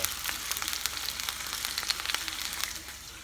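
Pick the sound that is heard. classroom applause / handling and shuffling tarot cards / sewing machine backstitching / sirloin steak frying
sirloin steak frying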